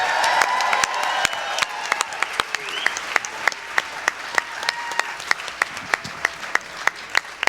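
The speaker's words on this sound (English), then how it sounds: "How about a round of applause for Kevin Hosley?" Audience applause at a film festival event, thinning clapping with a few loud individual claps standing out near the microphone as a cheer rises briefly early on.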